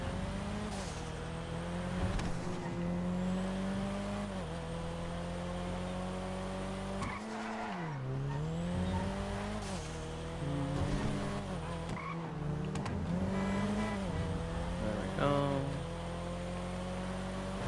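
A Midnight Purple R34-based car in GTA Online revs and accelerates steadily throughout, its engine note rising and falling through gear changes while tires squeal and skid repeatedly, loud and continuous with no talking.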